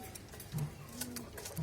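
Racing pigeons imported from abroad cooing softly in a loft, a couple of low brief coos against a faint background.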